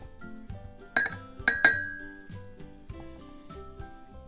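Glass clinks sharply a few times as a Pyrex glass measuring cup takes oils for homemade clay, cocoa and shea deodorant, with bright chinks over soft background music.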